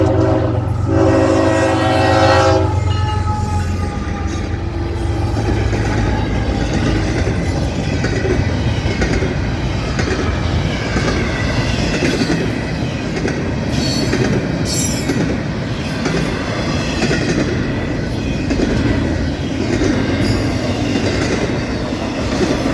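A Florida East Coast Railway train passes near County Road 206 in St. Augustine, its horn sounding in long steady blasts at the start before giving way to a continuous loud rumble of wagons and wheels rolling by close.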